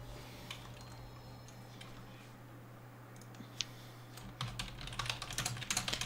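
Quiet typing on a computer keyboard sits over a low steady hum. Scattered soft clicks build into a faster, denser burst of keystrokes toward the end.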